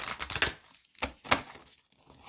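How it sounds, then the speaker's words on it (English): Someone shuffles a deck of tarot cards by hand. A few short, papery riffling bursts come close and fairly quiet, with brief pauses between them. "We're gonna give it a good shuffle."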